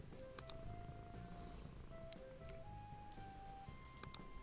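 A cat in Thief Simulator 2 purrs while being petted, a soft, low, continuous rumbling purr heard faintly beneath light chiming game music.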